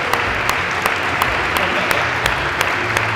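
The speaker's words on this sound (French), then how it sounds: "on peut les applaudir bien fort" Audience applause after a padel match, steady dense clapping throughout with a few sharper claps standing out, and a voice talking faintly beneath.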